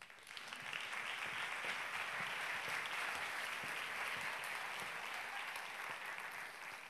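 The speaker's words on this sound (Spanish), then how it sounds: "que suena el aplauso para Clara Jiménez" Sustained applause from a conference audience welcoming journalist Clara Jiménez to the stage, steady dense clapping that holds loud for the full stretch before easing slightly at the end.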